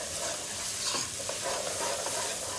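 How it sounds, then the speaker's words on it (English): Vegetable fried rice made with brown rice, spices just added, sizzles steadily in a hot pan while a utensil stirs it, giving a close, even frying hiss with soft scraping throughout. "Give this a nice mix."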